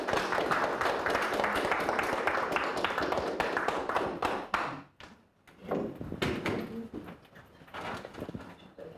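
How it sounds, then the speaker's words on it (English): An audience at an inaugural professorial lecture applauds in a dense, crackling burst of clapping that drops off sharply about halfway, then gives way to thinner, scattered claps and faint murmurs. "And maybe a round of applause to finish."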